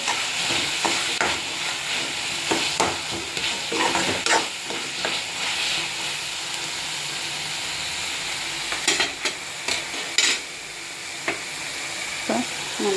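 Chopped capsicum stirred and frying in a kadai pan for kadai paneer, a steady close sizzle broken by scraping spoon strokes against the metal, with no talk.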